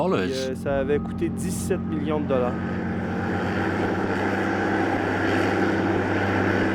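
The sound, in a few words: hovercraft icebreaker engine running on the St. Lawrence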